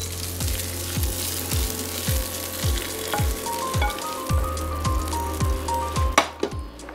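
Fried chillies sizzle in a pan taken off an induction cooktop as kasuri methi goes in, a steady frying hiss punctuated by a regular series of soft thuds and a sharp clatter near the end, with no speech.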